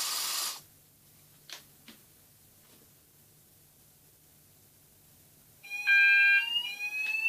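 A smoke detector sprayed with deodorant: a short burst of aerosol hiss, then several seconds of near silence, before the alarm breaks out in loud, piercing, pulsing electronic tones that keep going to the end.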